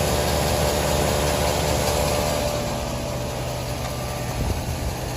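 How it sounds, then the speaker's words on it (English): Airlift compressor on a 2017 Ford F350 runs continuously to inflate the rear air bags, a loud steady buzzing drone with a low rumbling undertone, close and without talk. "the compressor is now turned off"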